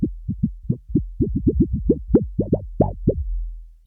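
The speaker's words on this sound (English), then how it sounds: "I call this the Bubblewrap sound effect." A run of deep, round popping bursts from a bass pedal effect, about a dozen in quick uneven succession, bubbly and resonant, with no talking.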